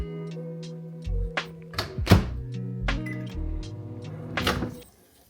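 Several thunks and clicks of a microwave door being closed, close up, with a soft hum in the background and no buzzing.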